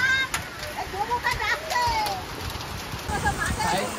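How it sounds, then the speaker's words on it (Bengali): Rain mixed with hailstones pours down in a steady splashing hiss during a hailstorm, with scattered hard impacts, while people talk over the downpour. "বৃষ্টি শুরু হয়ে গেছে গাইজ, আর বৃষ্টির সঙ্গে সঙ্গে শিলও পড়ছে, অনেক শিল পড়ছে"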